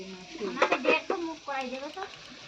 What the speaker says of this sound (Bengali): এই যে ভাজছে এখন সোয়াবিন। সোয়াবিন ভাজছে।